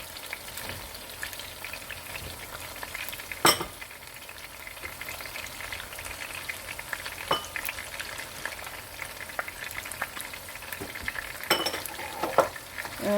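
Meat (gosht) stir-fried with ginger and garlic in a pan for a cauliflower-and-meat curry: a steady close sizzle with repeated scraping stirs and a few sharp utensil clinks, no talk.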